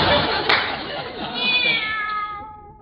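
Cat meowing in an old-time radio comedy scene, a drawn-out meow rising out of a hissy, muffled recording, fairly close, with a brief click near the start.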